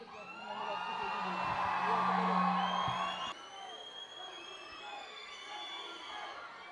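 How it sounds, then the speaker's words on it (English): Large crowd at the Gardenia 2019 event cheering, whooping and shouting, loud and dense at first, then dropping abruptly to a quieter sustained murmur of voices and scattered cheers. "can we have a huge round of applause for him"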